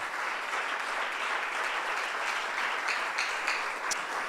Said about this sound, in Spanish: Démosle el aplauso al maestro en esta hora.